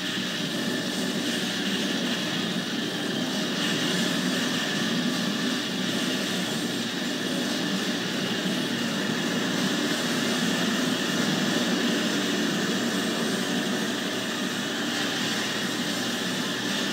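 A loud, steady roar of huge aircraft engines from the giant airplane boss in the video game Metal Slug 5 drones on without pause, a dense jet-like rumble filling the whole stretch with no voices.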